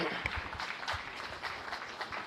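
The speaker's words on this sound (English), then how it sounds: "Please give them a round of applause." A county fair crowd applauds cattle exhibitors after a beef steer class, scattered clapping with distinct hand claps and low background noise, fairly quiet and steady.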